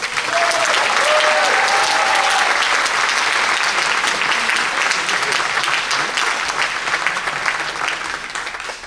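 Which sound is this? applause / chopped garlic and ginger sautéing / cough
applause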